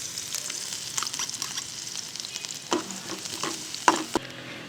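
Chopped garlic sizzles in hot ghee in a pan with a soft, steady frying crackle, joined near the end by a few scraping stirs and clinks of a spatula, no voices.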